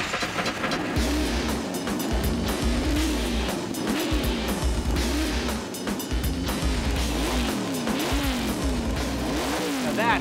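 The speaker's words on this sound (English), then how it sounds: "That's 545 cubic inches of big block Ford alcohol injected." A 545 cubic inch alcohol-injected big block Ford engine fires up and runs with a loud, rough, lumpy idle and throttle blips, close and dominant throughout with no talk.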